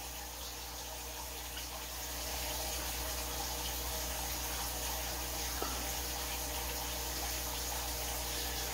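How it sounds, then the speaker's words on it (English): Steady, constant rushing of water runs in the background during a water change on aquarium tanks housing Oscars, and it grows slightly louder after a couple of seconds. "I'm due to apologize for the water noise in the background."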